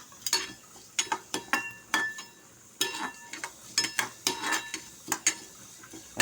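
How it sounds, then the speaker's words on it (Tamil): A spoon scrapes and clinks against a pan while flattened rice (aval) is dry-roasted for sweet pongal. The stirring strokes repeat steadily and close by, with light rustling of the grains between them. "பாருங்கள், வறுத்து வச்சுட்டுருக்கேன் அவலை."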